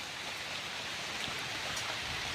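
Steady patter of rain falling on surfaces nearby in a forest, a dense even hiss with scattered drop taps and no voices.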